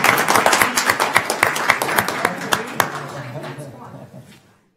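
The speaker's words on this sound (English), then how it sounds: "Round of applause, please." Applause fills a county commissioners court meeting, a modest group clapping in quick, distinct claps that thin out and fade to silence, with murmured voices underneath.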